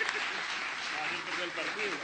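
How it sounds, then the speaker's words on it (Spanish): Applause from an audience honoring a journalist at a Colombian radio gathering, a steady dense wash of clapping lasting the whole moment, with voices faintly mixed underneath. "un aplauso para él"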